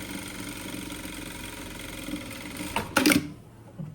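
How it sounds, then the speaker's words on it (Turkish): An overlock machine finishes the seam edge of a tracksuit with a steady, close mechanical whir, swelling into a brief louder burst of stitching near the end. "Overlock'la temizleyeceğim."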